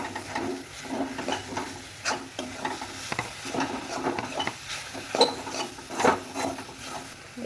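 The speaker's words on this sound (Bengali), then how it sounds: "এবার আমি এই নারকেল কুচিগুলো দিয়ে দেবো। দিয়ে ভালো করে আমি নেড়ে চেড়ে নেবো।" A spoon stirs coconut shreds into hot sugar caramel in a pan, giving repeated scraping strokes and soft sticky sizzle, close and uneven in rhythm with no talk.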